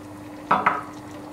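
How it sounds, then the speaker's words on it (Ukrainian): Two quick scraping clinks of a spoon stirring stewed vegetables with rice in a pot, close and fairly soft, with a low steady hum underneath. "зараз я гарненько перемішаю"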